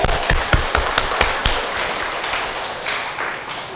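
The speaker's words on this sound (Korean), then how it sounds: "박수 한번 더 크게 해주세요" A Korean church congregation claps loudly, opening with sharp, distinct claps that merge into a busier burst of applause before tapering off.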